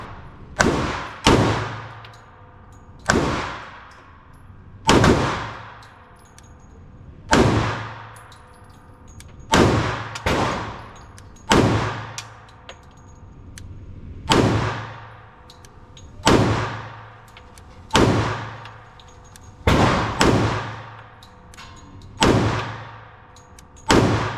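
A Sig P320 XTen Comp 10mm pistol fires S&B 180 grain rounds at an outdoor range, about fourteen sharp, loud reports in irregular pairs and singles, each with a ringing tail.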